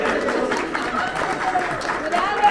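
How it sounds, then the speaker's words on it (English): An audience claps at a plein air painting event where a people's choice award is presented, with a steady wash of applause running throughout and voices talking over it. "Everyone, please give her a clap."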